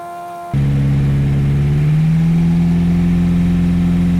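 Light aircraft engine idling while lining up on runway 21, a loud steady drone that starts abruptly and then rises slightly in pitch as power increases, close and continuous without speech.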